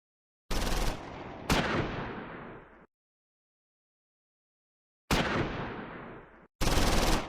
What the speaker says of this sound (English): Second platoon's BAR squad receives machine gun fire from the Befehlspanzer